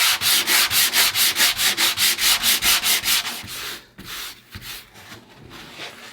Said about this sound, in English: What I'm looking for now is just trying to sand it out until I don't have any more pitting.